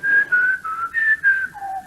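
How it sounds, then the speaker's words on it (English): Someone whistles a short tune, clear and close, with a few sustained notes that rise and fall and end on a lower pitch, alone with no other sound. "As he whistles some moronic tune."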